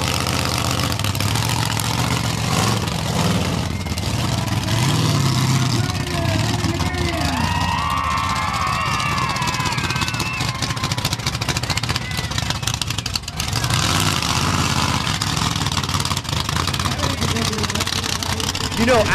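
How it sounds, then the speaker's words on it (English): A big 8-wheeled Predator monster truck roars continuously at an off-road 4x4 truck show as it smashes cars, its loud engine rumble running beneath an announcer's steady commentary. "this big 8-wheeled Predator thundering down, smashing those cars."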